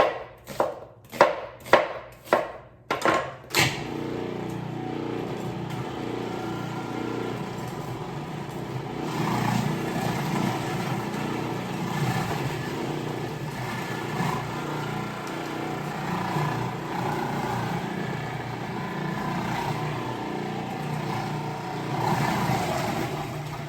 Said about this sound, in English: So that's the last I'll need of my food processor here.